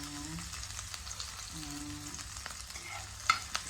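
Garlic and onion fry toward golden brown in a pan, a quiet steady sizzle with intermittent stirring scrapes and a sharp clink of a utensil near the end.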